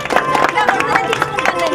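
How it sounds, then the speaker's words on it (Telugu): Applause in a clapping contest, where an older woman claps hard and without stopping, heard as rapid, rhythmic, close claps mixed with crowd noise and voices. "చప్పట్ల పోటీలో పెద్దమ్మ గట్టిగా కొడుతుంది. కంటిన్యూస్ గా కొట్టాలి."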